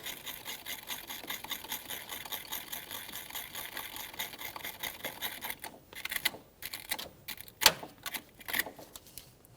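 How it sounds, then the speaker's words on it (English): A small wire brush scrubs the battery terminal ends of a 2012-2015 Honda Civic, starting as a steady close scratching and then breaking into short, irregular bursts of rasping strokes toward the end, with no talk. "It's time to clean the battery terminal ends. For this, I'm just using a small wire brush."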